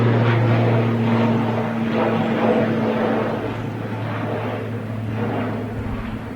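Vueling airliner on final approach to runway 23 right at Manchester Airport, a loud steady engine roar with a low droning hum that eases slightly over several seconds, heard alone without talk.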